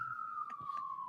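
An emergency vehicle siren outside in Dedham, Massachusetts, a fire engine nearby: one steady, slowly falling tone held the whole time over faint background noise, with no one talking.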